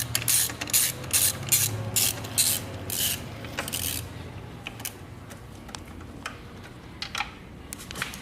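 A ratchet with a 17 mm socket loosens the transmission drain plug on an 800 UTV, giving quick bursts of close, crisp clicking with pauses between strokes, then quieter scattered ticks.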